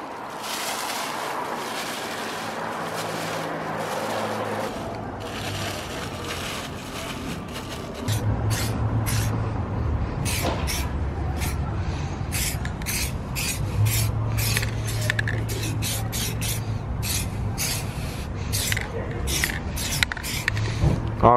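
Black paint sprayed onto an Audi A5 wheel rim, heard as a steady close hissing rasp with short spurts that grows denser over the second half, with faint talk in the background at the start.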